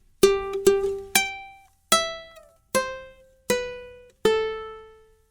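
Plucked ukulele notes ring out one at a time in a short, evenly paced phrase of Happy Birthday, each note decaying cleanly before the next.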